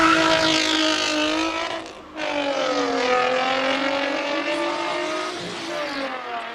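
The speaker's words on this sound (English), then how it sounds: "Derek Truscott in the Nissan 350Z here at the start line" A Nissan 350Z race car launching from the start line of a Cape Town hill climb, its engine loud and near, climbing in pitch through gears with a brief dip at the shift before pulling hard again.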